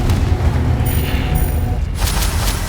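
Loud booming blast from the Confringo fire spell in the Hogwarts Legacy video game, a heavy low-end explosion burst that rumbles throughout with a second impact near the end.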